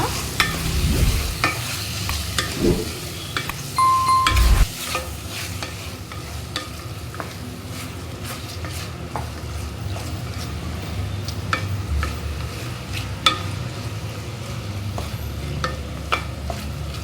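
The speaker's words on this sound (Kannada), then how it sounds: "ಮೊಟ್ಟೆನ ಹಾಕೋಣ ಇವಾಗ ಇದನ್ನ ಮಿಕ್ಸ್ ಮಾಡೋಣ" Chopped boiled eggs stirred and fried in a pan, a continuous near sizzle broken by repeated spatula scrapes and clinks against the pan, a louder knock near the start, no talk.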